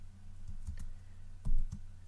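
A computer keyboard is typed on in a few quick bursts: a small cluster of crisp clicks, then a louder double-tap after a brief pause, heard up close with no voices.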